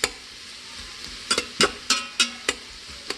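Onion frying in oil inside an Instant Pot during Indian cooking of matar paneer, a steady sizzle under a series of sharp stirring scrapes and clinks of a spoon against the pot, close and alone.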